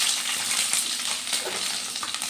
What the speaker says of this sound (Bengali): দিয়ে একটু নাড়াচাড়া করে নেব এইভাবে।